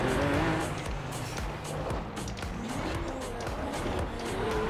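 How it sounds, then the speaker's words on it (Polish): A Lamborghini Aventador engine in Forza Horizon 4 roars steadily and loudly throughout, rising and falling in pitch as the car drifts on ice, with some tire noise. "Lambo grmi."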